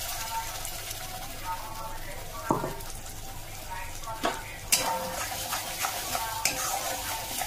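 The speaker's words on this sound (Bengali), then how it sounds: "এবার কড়াতে সর্ষের তেল দিয়ে দিয়েছি। এবার এটাকে দিয়ে দেবো।" Mustard paste hits hot mustard oil in a wok and sizzles steadily, with a spatula stirring and a few sharp scrapes and clinks against the metal.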